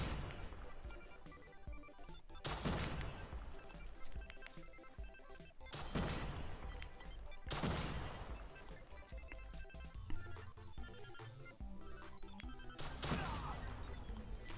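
Shotgun blasts in Call of Duty: Mobile, several sharp loud bangs spaced a few seconds apart over busy game noise, with a scattering of smaller impacts between them.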